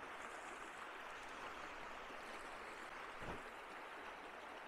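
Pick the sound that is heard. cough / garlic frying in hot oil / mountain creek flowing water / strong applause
mountain creek flowing water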